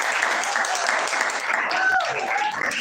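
An audience bursts into applause, a dense clapping wash lasting a few seconds while a voice speaks over it.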